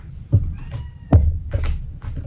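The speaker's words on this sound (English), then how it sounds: "Oh, my cat came to sing." A pet cat meows in a few short, separate calls indoors, fairly close and clear, with brief pauses between them and no talking.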